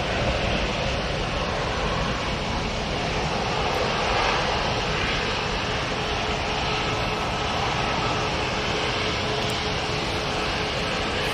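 A TUI airliner moves on the ground at Manchester Airport with a continuous, fairly close engine roar that stays even and loud throughout, with no voices.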